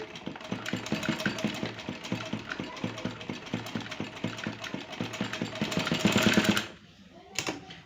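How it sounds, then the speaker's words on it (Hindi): A sewing machine runs a steady, fast rhythmic chatter while stitching the boat neck collar of a kurti, continuous and fairly close for most of the clip, then stops abruptly near the end with a brief clunk. "दूसरा साइड जो है हमारा कॉलर का, उसी में भी सेम तरह से स्टिचिंग होगी"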